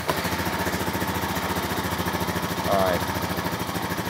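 Honda Rancher 420 ATV engine idling with a steady, even putter throughout, while a voice speaks briefly over it.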